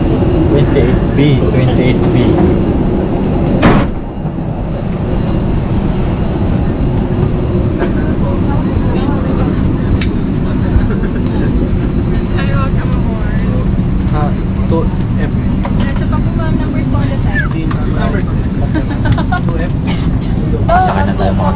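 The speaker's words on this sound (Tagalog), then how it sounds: "pahinga muna tayo dito sa loob ng aeroplano" Inside an airplane cabin during boarding, a steady low ventilation and engine hum fills the space, with a brief knock near the start and people talking over it.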